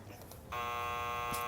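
A game buzzer from the Nancy Drew title The Phantom of Venice kicks in abruptly after a quiet moment and holds as a steady, harsh electronic drone to the end, alone.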